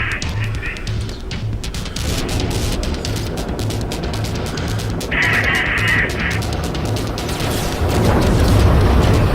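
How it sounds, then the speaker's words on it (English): Heavy booming blasts and rumbling fire from enemies shooting back in the space game No Man's Sky, a continuous loud barrage with deep thuds and a brief brighter burst partway through. "Ooh, they're shooting back."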